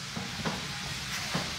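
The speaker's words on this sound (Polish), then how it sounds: "nie chcę smażyć na tej drugiej, chcę tylko na tej jednej" Dough frying in a pan on a tiled wood-fired kitchen stove, a steady soft sizzle with a couple of faint stirring or scraping touches, heard alone.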